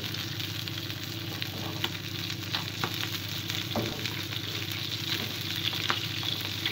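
A trout or salmon fillet fries in a pan, giving a steady, close, dense sizzle with faint crackles and the occasional scrape, continuous throughout with no talking.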